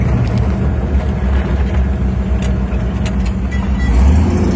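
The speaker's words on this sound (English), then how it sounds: "78 CJ driving down the road." A 1978 Jeep CJ Renegade with a six-cylinder engine and four-speed drives down the road, giving a steady, loud engine rumble mixed with road and wind noise throughout, with no talking.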